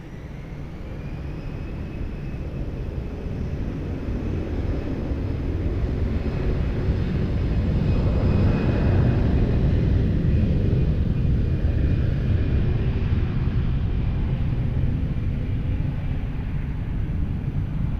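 An aircraft taking off from runway 20 at Lisbon Airport, a loud sustained jet engine roar swelling as the plane accelerates and peaks mid-way before holding strong, near and continuous with no talk.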